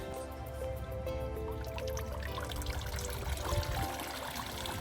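A running filter in a tropical fish pond churns and splashes, a dense, steady wash of bubbling and trickling water that stays constant throughout.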